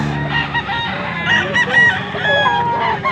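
A two-year-old rooster at a market in Pampanga crows loudly and close by, giving a full, drawn-out crow with a few clucking notes and no talk over it.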